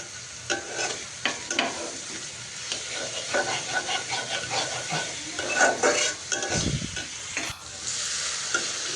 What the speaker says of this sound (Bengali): এখন এটা একটু ভেজে নিব।